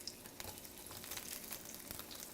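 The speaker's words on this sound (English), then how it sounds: "add a little more oil, and then start cooking the vegetables. So I'm going to start with the the onions" Onions frying in oil for a stir-fry, a steady soft sizzle with faint crackles running throughout, fairly quiet and close, with no talking.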